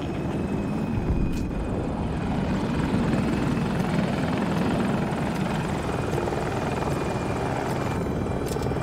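A hostile aircraft in the Battlefield 2042 video game roars overhead with a steady, rotor-like engine drone, loud and sustained throughout with no talk.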